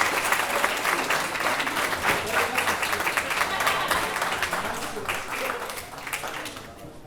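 Wedding guests at a lodge reception applaud as the best man walks up, a full, steady round of clapping from many people that fades slightly toward the end, with some speech mixed in.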